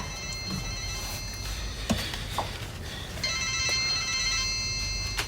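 A telephone ringing indoors in bursts of electronic trilling, moderately loud and clear against a quiet room with faint background movement.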